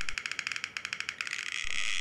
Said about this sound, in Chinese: 旋转竹棒，我们可以听到像是蝉鸣的声音